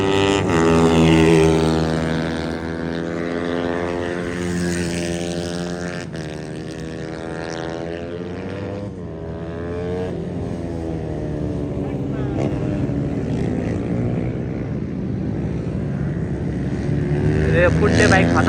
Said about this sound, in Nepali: फुट्ने बाइक खतरा हाल्दै आइरहेको